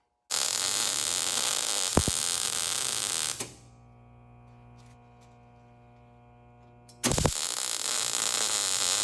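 Electric welding on the air box of a Buick Regal, a loud steady buzzing arc with crackle that runs for several seconds, stops briefly to a quieter humming background, then starts again just as loud.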